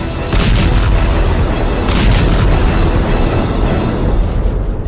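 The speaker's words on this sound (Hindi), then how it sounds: "एक जोरदार धमाका और लंबी खामोशी।" A heavy blast from a Shahed drone strike in a war zone rumbles loudly and continuously, a dense low roar with crackling bursts that slowly fades.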